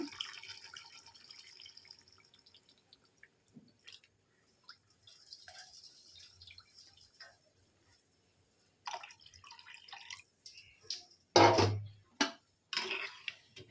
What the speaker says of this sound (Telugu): ఇందులో ఇప్పుడు చింతపండు పులుపు వేసేస్తున్నాను.